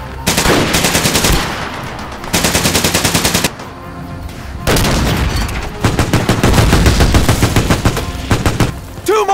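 Loud bursts of machine-gun and rifle fire in a Lego World War II battle animation of the Pacific fight at Peleliu, rapid rattling volleys in several long runs separated by short lulls.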